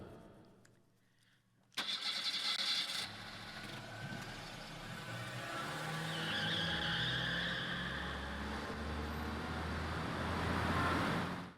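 A car in Parasite Eve 2 peels away with a sudden loud burst of engine and tire noise after near silence, then a sustained rising roar that swells and fades, with no talk.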